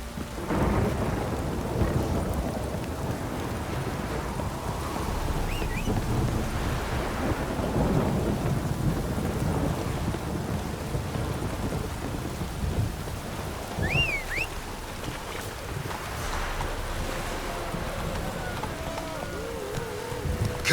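Thunderstorm with a heavy downpour in The Witcher 3 video game: a constant roar of rain over rolling thunder rumbles, fairly distant and even in level, with no speech.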